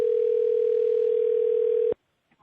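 Telephone call tone heard while dialing someone: one steady, loud, unbroken tone lasting about two seconds, then cut off abruptly into near silence, with no talking over it.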